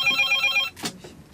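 A telephone on the inter-Korean military hotline rings in a short electronic burst of repeated trills, loud and close, then stops and leaves a brief rustle.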